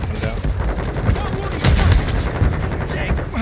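Gunfire in the video game Call of Duty: Modern Warfare 2, dense and loud, with sustained automatic bursts and heavy impacts layered over a constant battle rumble.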